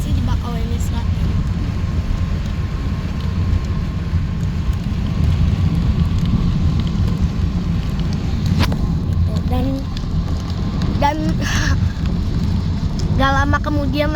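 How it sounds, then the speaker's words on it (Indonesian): Sudden heavy rain drums steadily on a car during a road trip near Bakauheni, Lampung, a loud continuous roar of rain and road noise throughout, with a person talking over it. "gak lama kemudian langsung hujan deras dalam 1 detik"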